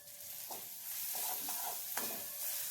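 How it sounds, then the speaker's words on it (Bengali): Garlic fries lightly in a pan with a pinch of turmeric and chili powder for a flat bean dish, giving a quiet, steady sizzle broken by a few short scraping stirs, with no one speaking. "রসুনটা কিন্তু পুরোপুরি একেবারে পুড়িয়ে ভাজবো না, হালকা করে একটু ভাজছি"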